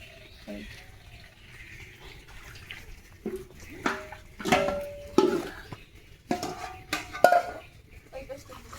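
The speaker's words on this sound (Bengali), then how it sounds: "এই যে চাল ধুয়ে নেবো" Rice is washed by hand in a pot of water, with a few soft swishes and splashes and some metal clinks of the vessel, while someone talks throughout.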